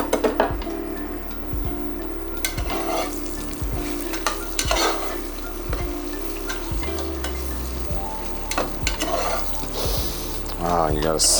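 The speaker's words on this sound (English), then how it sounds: "They can already start frying" Loud, steady sizzling of carrots frying in a pan for plov with lion's mane mushroom, with repeated clinks and scrapes of stirring and a voice speaking over it.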